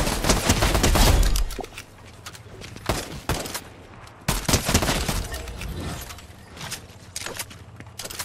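Rapid gunfire bursts from the video game Fortnite crackle in clusters, loud and sharp, with brief lulls between volleys; no talking.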